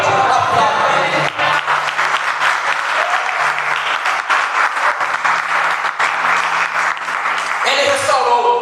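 A church congregation applauds loudly and continuously in a full, dense burst of clapping, with voices and cheering mixed in and a low sustained tone underneath.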